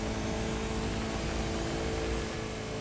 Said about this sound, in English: let's see what's the top speed of this car